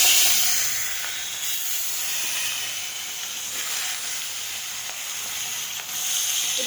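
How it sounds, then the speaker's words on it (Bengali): A fish head rubbed with salt and turmeric dropped into hot oil on a gas stove, giving a loud, steady hissing sizzle that stays close and continuous throughout with no talk. "চলো তেলে ছেড়ে দিই।"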